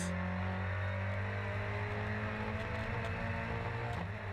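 Two closely matched Volkswagen race cars in a Sasol GTC round at Cape Town, engines droning loudly at high revs with steady tonal whine and a slight rise as they pass, no commentary heard.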